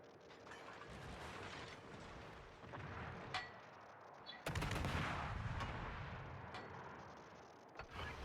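Guns firing shells from a warship in a naval video game, heard as muffled, distant booms over a continuous rumbling din, with one louder, heavier volley cutting in midway.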